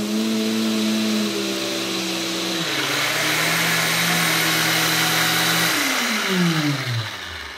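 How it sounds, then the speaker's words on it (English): A blender and a Sawzall reciprocating saw run together on a Bluetti EB55 power station, giving a loud, continuous motor whine. The pitch steps down partway through and sweeps up near the end as the load changes. "And now we're going to go with the Sawzall."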